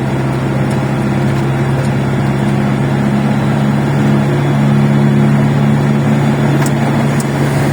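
A Harley motorcycle engine rumbles loudly and steadily nearby, a deep sustained drone with slight swells in intensity, no talking over it.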